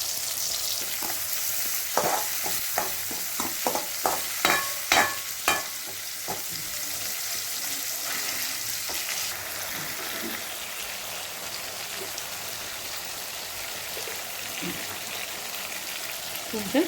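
Chopped tomatoes fry with salt and turmeric in a pan for Tamil-style chicken gravy, a soft sizzle broken by a quick run of scraping stirs and ladle taps early on, then a quieter steady fry.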